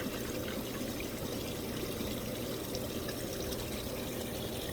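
A hot tub's secondary pump circulates water in a steady, low churning rush with a faint trickling, continuous and even, with no voices.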